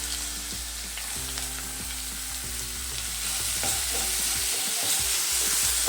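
Onion and tomato frying in oil in a pan while being stirred for paneer gravy, a steady loud sizzle with repeated scraping stirs throughout, no talking.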